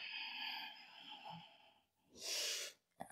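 Breath exhaled during a yoga exercise: a soft breathy rush rises and fades over about a second near the end, after a quieter stretch of low room tone, with a short sniff-like burst at the close.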